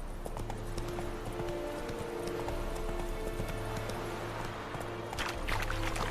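Roach the horse gallops in The Witcher 3, hooves clip-clopping in a quick steady rhythm over a low ambient hum, with a brief faint voice near the end.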